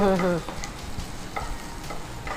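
Garlic frying in a pan while pasta in white sauce is made, a soft continuous sizzle broken by a few light stirring scrapes; a short tonal sound opens before the frying carries on alone.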